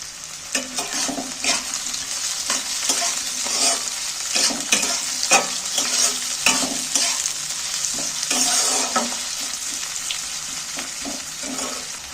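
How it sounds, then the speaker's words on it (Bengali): Chopped onions fry in hot oil in a wok, a continuous bright sizzle with repeated scraping and stirring strokes, close and steady throughout. "তেলটা গরম হয়ে গেছে, কাটা পেঁয়াজগুলো এর মধ্যে তুলে দিচ্ছি।"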